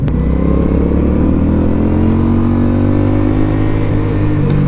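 A 2025 Benda Chinchilla 500 motorcycle is ridden along, its engine holding a loud, steady drone with layered harmonics that slowly shift in pitch as the bike pulls.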